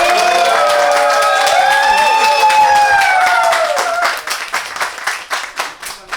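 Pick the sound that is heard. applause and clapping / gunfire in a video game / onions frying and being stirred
applause and clapping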